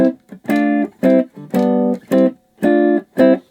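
Seven short, punchy electric guitar notes with a boosted, harmonically rich tone, played in a choppy rhythm with brief silences between them.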